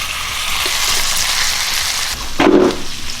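A rack of lamb sizzles steadily in a hot skillet, a close, continuous hiss of frying fat that swells briefly louder near the end, with no talking.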